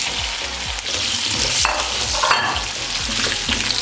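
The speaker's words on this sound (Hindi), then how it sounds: "अब इसमें आलू डाल देंगे।" Potatoes fry with spices in a pan for aloo palak, a loud continuous sizzle broken by rhythmic scraping strokes of stirring, with no talk.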